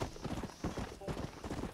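A horse's hooves clip-clop at a steady gait in the video game Red Dead Redemption, with a quick regular rhythm of muffled thuds heard close and moderately loud.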